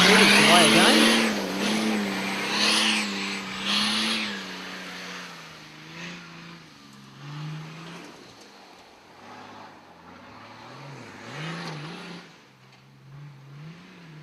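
A 4x4 truck engine revs while working through deep water at an off-road winch challenge, a loud surge at the start easing into fluctuating mid-level revving, with a commentator talking over it.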